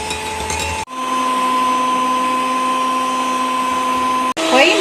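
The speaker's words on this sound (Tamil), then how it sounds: "க்ரீமை நல்லா பிளண்ட் பண்ணிக்கலாம்" A blender whirs cream for homemade orange ice cream, switching on abruptly into a loud, steady motor drone with a clear whine, running several seconds before cutting off.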